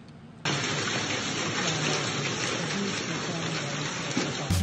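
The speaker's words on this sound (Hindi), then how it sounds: "इस्लामाबाद और रावलपिंडी में तेज बारिश के साथ ओले गिर पड़े" Heavy rain with hail pours down in Islamabad as a steady, dense roar of falling water, loud and continuous from start to end after a brief quieter moment.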